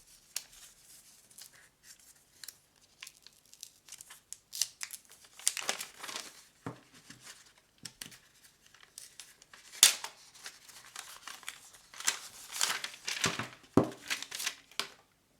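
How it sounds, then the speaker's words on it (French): A Nothing Phone (2a) Plus is unwrapped from kraft paper, with crisp crinkling and tearing in irregular bursts that grow busier and louder toward the end, close up and with no voices. "le téléphone emballé dans ce petit papier, sorte de papier craft. Voilà, on va essayer d'ouvrir ça proprement"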